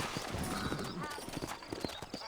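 Horse hooves clip-clop steadily in the Western video game Red Dead Redemption, a rhythmic run of close, distinct hoof strikes on a dirt street, with a faint whinny and voices talking over them.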